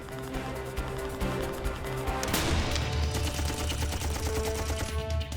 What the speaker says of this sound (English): With his driver acting as spotter, Harrison fires a test shot.